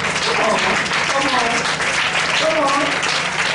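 A church congregation claps in a continuous, dense round of applause that stays loud and even throughout, with a voice talking faintly under the clapping.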